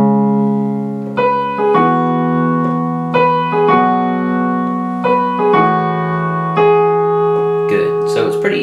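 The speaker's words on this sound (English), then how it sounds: "All right, so then we're into an instrumental part that sounds like this." Piano plays the easy instrumental section of a song, repeated held chords and a simple melodic pattern stepping through steady changes, close and clear with no talking.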